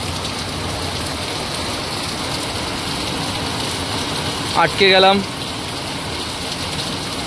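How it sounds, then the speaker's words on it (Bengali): Rain drums steadily on a car stuck partway through a journey home, a constant broadband wash throughout, with a brief voice speaking near the middle. "আমাদের এই যে বৃষ্টি"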